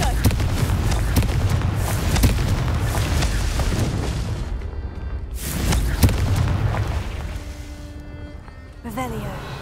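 A Confringo spell blast in the video game Hogwarts Legacy, a loud booming burst with dense rumbling low end, followed by a second surge of blast noise and a fading tail with a brief voice at the end.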